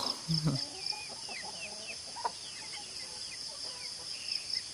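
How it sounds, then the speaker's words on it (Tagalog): Chickens cluck and chirp softly at a distance over a constant high insect buzz at a forest campsite, with a brief low voice near the start. "Pagkagising ko, nagsulputan yung mga manok dito."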